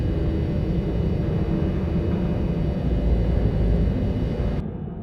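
Sci-fi film background ambience bed treated with reverb and delay, a steady dense low rumbling drone with airy hiss on top, continuous and loud before cutting off abruptly near the end.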